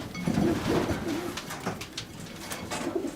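Racing pigeons coo in breeder pens, with several soft, rolling coos repeating close by against a quiet background.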